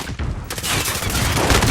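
Sustained gunfire in Call of Duty Modern Warfare, a dense rolling fusillade of overlapping shots and booms that grows louder and busier after a quieter opening, with no talk over it.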